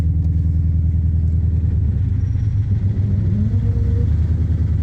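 2003 SVT Mustang Cobra creeping in reverse with the clutch fully out: a deep, loud, lumpy idle rumble with a steady pulsing beat, close by and unbroken.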